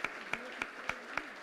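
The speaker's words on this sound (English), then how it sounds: "Can we all please have a huge round of applause for Mr. Khera?" Audience applause for Mr. Khera at a book launch, faint sustained clapping under a few evenly spaced louder claps, with a bit of voice underneath.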